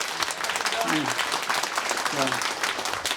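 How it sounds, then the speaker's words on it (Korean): Applause from an audience at a Korean political talk event, a steady, dense clatter of clapping filling the room for a few seconds, with a few voices calling out briefly over it. "박수 한번 좀 쳐주십시오"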